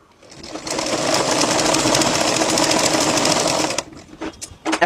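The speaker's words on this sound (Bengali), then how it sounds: "এখন যদি আমি একটু সেলাই দিয়ে দেখাই কিরকম হচ্ছে" Sewing machine stitching after its thread tension has been tightened, a loud, steady whir running for about three seconds, then stopping abruptly with a few faint clicks afterward.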